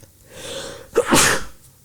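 A single loud sneeze during a podcast conversation, preceded by a quick inhaled breath and then a sharp, close burst that trails off.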